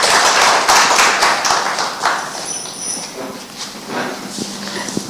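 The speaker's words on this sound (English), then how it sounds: "But please give them a round of applause." Audience applause at a panel conversation event, loud dense clapping at first that thins and fades over several seconds into scattered claps, with a faint murmur of voices underneath.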